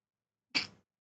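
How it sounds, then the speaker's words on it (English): A single short sneeze bursts out sharply after silence, then fades quickly. "Sneeze."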